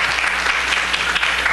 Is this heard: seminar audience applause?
yes